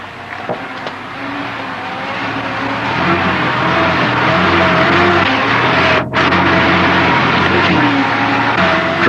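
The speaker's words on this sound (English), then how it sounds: "allow the vehicle to creep over the rocks under the combined force of engine" Toyota Land Cruiser engine working in low range while crawling over rocks, a steady loud drone with rising revs and a brief dip near the end, heard close and alone.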